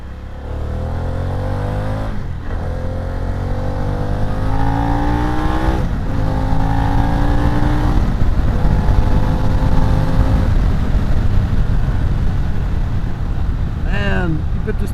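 A yellow Harley-Davidson Pan America motorcycle accelerates hard in sport mode at part throttle, its engine roaring loud and close, rising in pitch through several gear changes with short dips between pulls.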